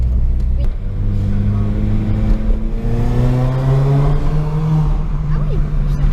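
A supercharged Mini Cooper R53 engine accelerates with a loud, rising drone as it pulls through the revs, heard from inside the car.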